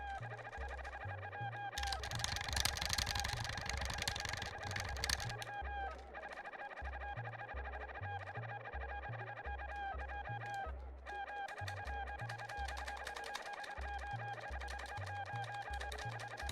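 A flock of chickens in Secret of Evermore clucks on and on in quick chattering runs over looping game music with a thumping bass pattern, one busier noisy stretch early on, and no one speaking.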